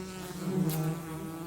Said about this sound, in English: Sometimes honeybees even compete with each other.